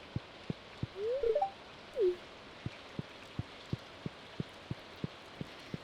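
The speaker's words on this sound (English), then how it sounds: "Valley looks more interesting in the rain, don't you think?" Rain falls in the Stardew Valley video game as a soft, even patter, with evenly spaced light ticks and a couple of brief chirps near the start.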